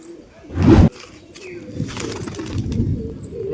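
Pigeons restless in an unfamiliar coop, a loud close burst of wing flapping or a hop, then soft scuffling, cooing and faint rustles at low level.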